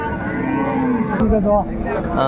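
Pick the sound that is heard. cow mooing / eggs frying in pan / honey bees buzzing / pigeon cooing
cow mooing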